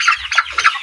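A chicken being handled for a fowl typhoid vaccination lets out three sharp, loud squawks in quick succession, close up with no talking.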